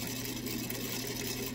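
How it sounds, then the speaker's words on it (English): A sewing machine runs steadily while stitching a seam in lavender fabric for an off-the-shoulder dress, giving a continuous, even mechanical whir at constant loudness, close by with no talk over it. "next we're going to sew this seam."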